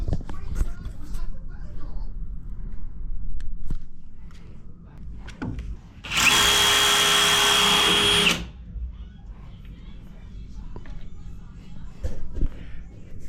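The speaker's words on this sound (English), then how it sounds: "the magnet will spin this nut and loosen it up and tighten it" A magnet-driven tool spins a nut to tighten a handrail joint, giving a loud steady whirring burst of about two seconds amid quiet workshop handling noises.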